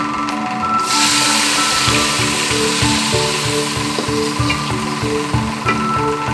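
Liquid milk poured into a hot, slightly scorched biryani pan sets off a loud, sustained sizzle, with a rhythmic scraping or stirring pulse running through it; close-up and continuous, with no voices.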